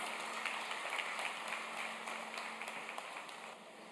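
An awards-ceremony audience gives a sustained round of applause, a fairly faint, even patter of many hands that sounds somewhat distant and tapers slightly toward the end.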